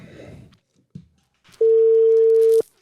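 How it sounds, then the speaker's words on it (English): Telephone ringing tone on an outgoing call, one steady electronic tone lasting about a second, heard after brief faint speech sounds. "It's ringing."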